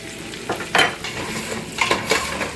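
Rice frying in a pan for Spanish rice, with a soft continuous sizzle and several scraping strokes as it is stirred, and no talk.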